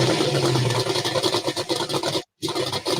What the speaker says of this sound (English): Can you hear the tractor?